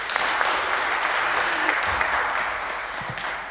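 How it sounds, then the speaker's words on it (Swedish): Applause from a congregation inside a cathedral during a Sunday high mass, a dense, steady clapping that fills the space for a few seconds and then begins to fade, heard without speech. "En applåd till henne också."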